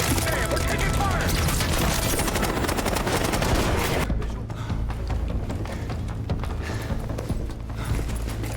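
Gunfire in a Call of Duty: Black Ops 6 cutscene: rapid rattling bursts and dense shots, loud and chaotic at first, then sparser cracks and thuds over a lower rumble.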